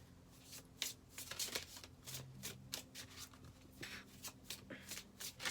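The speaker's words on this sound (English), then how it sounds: "These are my Teal Swan Frequency Tarot cards" Teal Swan Frequency Tarot cards being shuffled by hand in a series of quick riffles and soft slaps, close and fairly quiet, with faint low hum underneath and no talking.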